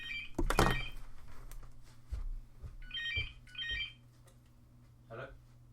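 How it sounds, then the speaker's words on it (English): A phone rings in repeated short electronic bursts among light room noises, with brief speech around it. "Phone's ringing, dude."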